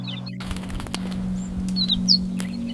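A bird near an open chimney gives a few faint, brief chirps over a steady low hum, with soft flutters and knocks, no voices.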